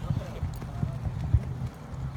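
A horse's hooves clip-clop in a few uneven steps, fairly close, with a low background bed and people around.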